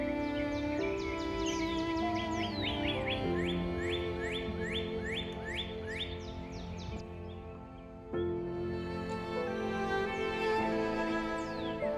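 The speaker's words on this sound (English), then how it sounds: "Sounds like there's two cardinals talking to each other." Two cardinals call back and forth outdoors with clear repeated whistled chirps and slurred notes in rhythmic series, fairly close, over a steady hum of background noise.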